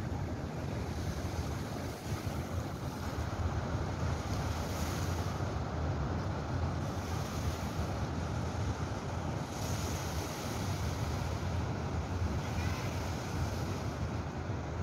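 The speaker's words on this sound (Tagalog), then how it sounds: "ito po yung tinatawag na Pacifico Beach" Ocean waves at Pacifico Beach, San Isidro, make a steady, even wash of surf mixed with wind buffeting the microphone, continuous and moderately loud throughout with no talk.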